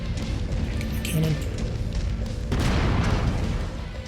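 Cannon fire from battling mechs in the MechWarrior 5 video game, a dense run of booming blasts and rumbling impacts with a heavier burst midway, mixed under ongoing game voices.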